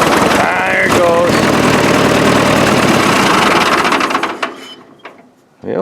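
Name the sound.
Ford 8N tractor engine running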